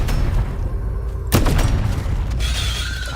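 A single sharp, loud explosion bursts in the biopunk roguelike game CRETE, cutting through ongoing mechanical clatter and rattling game noise.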